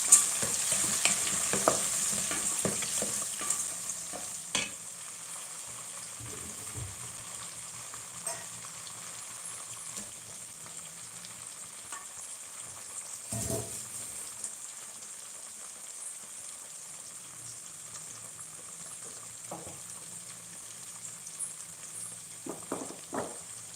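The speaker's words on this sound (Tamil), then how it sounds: "இதெல்லாம் நல்லா பொரிஞ்சதுக்கு அப்புறமா ஒரு கைப்பிடி அளவுக்கு தக்காளியை சேர்த்துக்கோ." Spices frying in a pan for bisibelebath, a quiet steady sizzle with intermittent scraping stirs and light clinks of a spoon against the pan scattered throughout.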